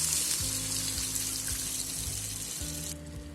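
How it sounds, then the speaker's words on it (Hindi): Half a glass of water poured into chicken cooking in a pan for restaurant-style chicken tikka, a steady close rush of liquid running for a few seconds over a low hum, easing slightly at the end. "अब इसके अंदर मैं आधा ग्लास पानी ऐड करूँगी।"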